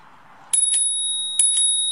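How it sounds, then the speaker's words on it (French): Two bright metallic dings of a small scooter bell, a pair of quick rings, a pause, then another pair, clear and close after near silence. "on a la sonnette ici."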